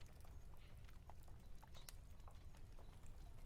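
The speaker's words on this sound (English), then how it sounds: "Horse and cart spooked me." Horse and cart clip-clopping, faint scattered hoof clicks over a soft, steady background hiss, heard alone without talk.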